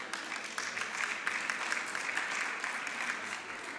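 An audience at a charity illustration auction applauds in a steady, even wash of clapping that lasts a few seconds, heard at moderate distance with no break.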